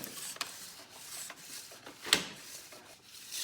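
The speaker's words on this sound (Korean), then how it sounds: "작업을 좀 더 수월하게 하기 위해서 홀더를 이용해서 작업을 하기도 합니다. 적색 다이아몬드 800방 이렇게 껴서" A red 800-grit diamond file clamped in a holder rasps along a ski's base edge during tuning, giving soft, close, intermittent rubbing strokes at a quiet level with no talk.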